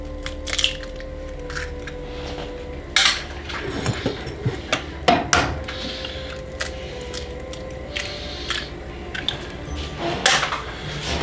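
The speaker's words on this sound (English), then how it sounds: "I'm going to add my eggs." Eggs go into a pan of melted butter: a series of sharp clinks and cracking knocks against the pan and shell, spaced irregularly over a low steady kitchen hum, close and fairly loud.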